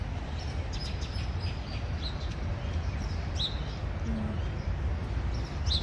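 Birds chirp outdoors in a park near a walking path and children's play area, giving scattered short, faint tweets at a distance over a steady background hum.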